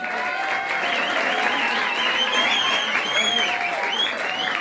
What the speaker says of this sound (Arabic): صفقوا عليهم